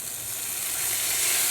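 Chicken jus hits a hot pan while cooking Mozambican trinxado, giving a steady, close sizzle and hiss that swells slightly louder over the short stretch, with no talking.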